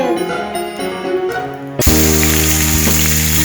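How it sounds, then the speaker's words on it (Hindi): Raw mango pieces fry in ghee in a kadai, a dense crackling sizzle that suddenly jumps louder midway and then holds steady, close up with no voices. "ये मेरे आम देखिए फ्राई हो रहे हैं, इसको अच्छे से फ्राई कर लेंगे।"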